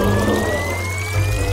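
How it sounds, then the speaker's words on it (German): Brew poured into a face mask machine, a steady liquid trickle with a faint rising tone running through the pour, close and moderately loud, no voices. "Gießen wir es in die Gesichtsmaskenmaschine und fügen eine Minztablette hinzu."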